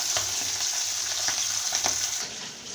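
Falli fish fries in a pan with a steady, dense sizzle that runs the whole time, broken by a few soft stirring knocks, and eases slightly near the end.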